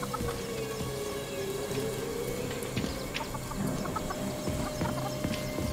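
A chicken in the video game Atomic Heart clucks in short bursts over a dense, loud game soundscape with a constant drone.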